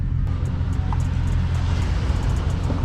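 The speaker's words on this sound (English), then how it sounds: "I'm just out here riding around, just testing out the car a little more." Dodge Charger 392 Scat Pack fitted with H&R lowering springs cruising along, heard from inside as a steady low engine and road rumble with no distinct revs, continuous and fairly loud throughout.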